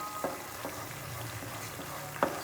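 Semolina roasting in a pan for suji halwa with cardamom seeds, giving a steady soft scraping sizzle punctuated by two sharper spoon knocks, near and fairly quiet.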